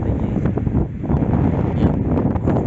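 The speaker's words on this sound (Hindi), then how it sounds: "आवाज़ सुन रहे हैं आप? हाय हाय हाय हाय, हाय हाय हाय, ये हवा चल रही है" Strong wind sweeps through the tall, thick-trunked trees of Kalam forest in Swat, a loud, gusting roar that buffets the microphone and rises and falls in waves.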